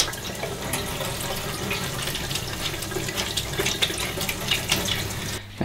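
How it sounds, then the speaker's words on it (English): A Dyson Micro 1.5kg vacuum filter is rinsed under a running tap, giving a continuous, close splashing gush of water into a sink that lasts throughout and stops abruptly at the end. "this is designed to be washed. So let's just give this a quick rinse."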